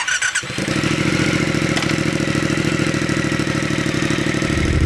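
A 2022 Triumph Speed Twin motorcycle engine fires up after a brief clatter and settles into a loud, throbbing run with steady revving, close by and with no talking.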